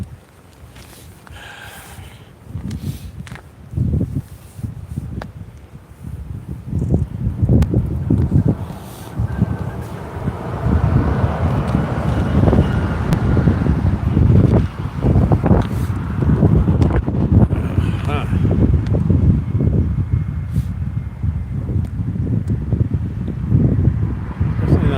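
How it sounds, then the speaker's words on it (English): Blustery wind blows outdoors, a loud, steady buffeting roar across the microphone that builds after the first few seconds and then holds, with faint rustling mixed in. "It is blustery, indeed."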